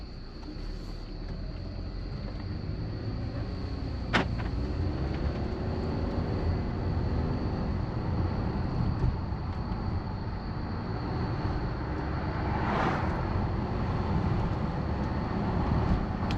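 A VW with a 2.0 TSI engine drives down a street, heard as a steady, continuous road and engine rumble with a brief sharp tick near the start and no talking.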